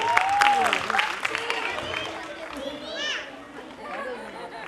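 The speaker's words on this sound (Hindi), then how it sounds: "तो जोरदार तालियां हो जाए।" Audience clapping and chatter at a children's dance academy annual function, a burst of applause with a voice and crowd noise, fading as voices continue over it.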